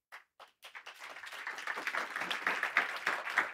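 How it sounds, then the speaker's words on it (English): A conference audience claps for a speaker on AI and the climate crisis, starting with a few scattered claps and swelling into steady, full applause. "So a round of applause for Mark."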